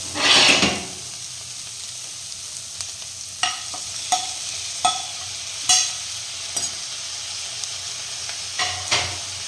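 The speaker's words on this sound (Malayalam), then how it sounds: "ഇളക്കി കൊടുക്കാം" Onions and chopped tomato frying in a pan for a prawn and drumstick curry, a low steady sizzle with a loud burst at the start and then scattered scrapes and taps of stirring, close, with no talk.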